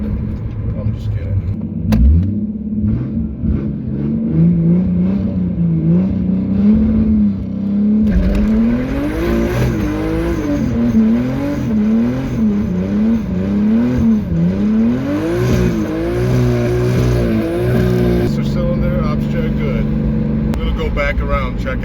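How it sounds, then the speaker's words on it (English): A Nissan 350Z with a Wilwood clutch master and slave cylinder upgrade does a burnout, its engine revving hard in repeated rising and falling surges, loud and close, under a broad roar of tire noise. "So nice, pretty solid burnout"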